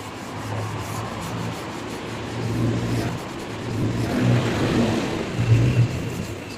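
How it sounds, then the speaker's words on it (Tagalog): Primer being sanded by hand on the body of a Honda EG hatchback, a steady dry rubbing and rasping that runs continuously at close range, rising and falling slightly in loudness. "Ilihain na natin, papantayin natin."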